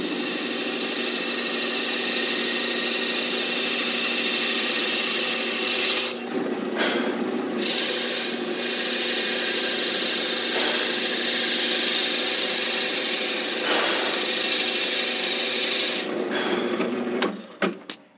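A Forstner bit bores a hole into a spinning wooden workpiece on a wood lathe, a steady loud rasping, grinding drone that continues for many seconds with a few brief dips, then stops abruptly at the end.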